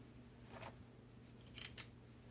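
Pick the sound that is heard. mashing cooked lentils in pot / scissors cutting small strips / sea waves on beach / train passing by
scissors cutting small strips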